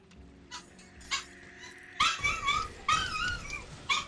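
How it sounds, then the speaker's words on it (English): A big dog whimpers softly at first, then breaks into a run of high yips and short barks, fairly close and with no talking over it. "Y'all have to forgive the big dog over there"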